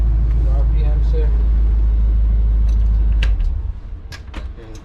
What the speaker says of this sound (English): We got a rumbly motor under there.